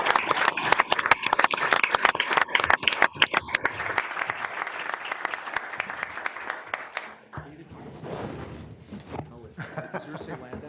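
Audience clapping for two law school panelists, dense and loud at first, thinning out and then giving way to murmuring and people talking at the end.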